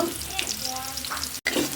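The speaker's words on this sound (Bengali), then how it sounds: "আমি পেঁয়াজ দিয়ে দিচ্ছি, তেজপাতাটা আগে দিয়ে দিচ্ছি, একটু ভাজা ভাজা করে নেব" Sliced onions and a bay leaf fry in a generous amount of hot oil, giving a steady, close sizzle for a couple of seconds with one brief dropout.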